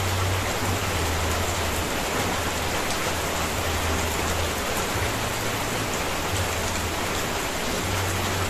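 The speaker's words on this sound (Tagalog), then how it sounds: "So, may ulan na tayo." Heavy rain hisses continuously and evenly, with a faint low droning hum coming and going underneath.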